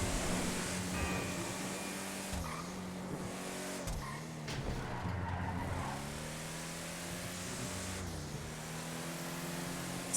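A car in a driving video game revs and shifts through gears, its engine note dropping and climbing repeatedly, with tire noise and skidding under a continuous loud motor drone.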